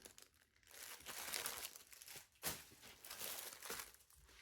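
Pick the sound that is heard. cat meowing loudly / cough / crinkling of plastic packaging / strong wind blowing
crinkling of plastic packaging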